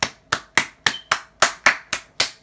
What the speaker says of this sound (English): I'd be clapping like that all the time.